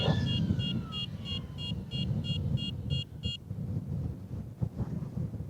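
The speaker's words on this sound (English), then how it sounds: "Got an alarm on our radio." An RC radio transmitter's low-voltage alarm beeps in a steady rapid series over the rumble of an Arrma Infraction RC car running outdoors, then stops while the motor noise continues.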